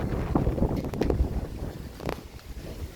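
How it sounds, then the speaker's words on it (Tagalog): Gusty wind buffets the microphone in rough, uneven bursts, a loud outdoor rumble with no voices. "Hindi na ako marinig kasi mahangin."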